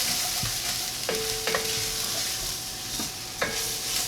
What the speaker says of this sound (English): I'm going to give this a little stir, let it mix in the bottom.